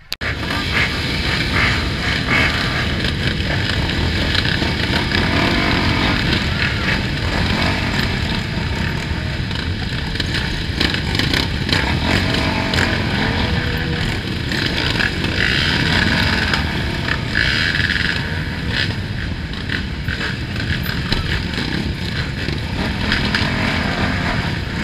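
Dirt bike motorcycles on a trail ride run loud and steady, with a continuous raspy engine drone and slight rises in revs as they accelerate, with no talk over it.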